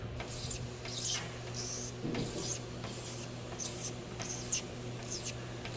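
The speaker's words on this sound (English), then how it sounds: "And I'm just going to keep scraping along until it is pretty much, you can't feel it." A hand scraper is drawn repeatedly across a surface to smooth it, giving short, rasping strokes in an irregular rhythm, close and moderately loud over a steady low hum.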